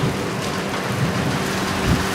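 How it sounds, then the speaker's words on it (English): Heavy rain pours steadily during a thunderstorm in Kosovo, a loud, dense hiss of drops with low rumbling underneath and no voices. "Rain, clouds, lightning."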